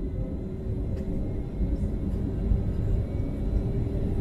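Inside the cabin of a Philippine Airlines Airbus A321-200, a deep, steady engine roar and rumble fills the space as the jet rolls for takeoff, loud and continuous with no voices.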